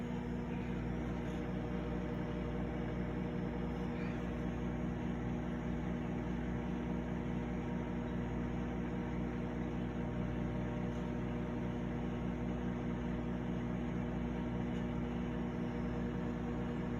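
A steady, low mechanical hum from a running microwave oven drones on unchanged throughout, continuous with no pauses or talk.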